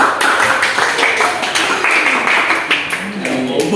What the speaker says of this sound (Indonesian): tepuk tangan untuk kelompok yang keempat